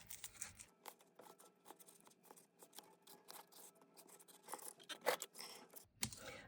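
Scissors cut card and foam tape for a handmade new home greeting card, making a close run of quiet snips and crisp blade rasps with soft rustling of paper, then a few louder closing cuts near the end.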